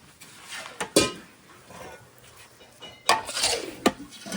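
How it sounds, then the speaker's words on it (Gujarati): Desi and white edible gum being stirred into a dry fruit, coconut and garam masala mixture in a metal pot, with a few sharp clinks and scrapes of a spoon against the pan between quieter rustling. "હવે આપણે ગુંદર મિક્સ કરી દઈ"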